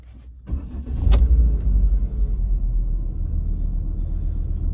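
A 2007 Volvo C70 cranks briefly and catches, its engine settling straight into a steady, close, low idle rumble that continues to the end.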